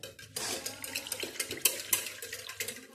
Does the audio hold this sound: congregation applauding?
no